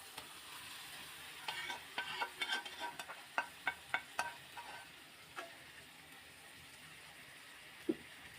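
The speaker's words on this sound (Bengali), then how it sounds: "ভাজা পটল আর মাছগুলো সব এটার ভিতরে দিয়ে দিই।" Fried pointed gourd and rohu fish pieces are stirred into a softly sizzling pan for a fish curry. A run of quick, close spatula scrapes and knocks plays over a faint frying hiss, then things settle down, with one last knock near the end.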